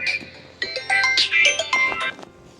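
A bright electronic phone ringtone plays in short melodic bursts, loud and close, with no one speaking.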